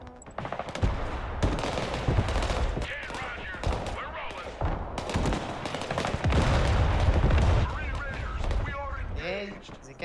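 Rapid bursts of gunfire crackle through a real-time battle in the war video game Broken Arrow, dense and continuous over about ten seconds with heavier blasts mixed in, loud and close, with occasional voices under the shooting.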